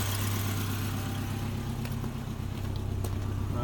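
A fuel-injected 2009 Subaru Forester engine idles steadily at low revs, a continuous low rumble with no talking over it; the car has exhaust leaks underneath.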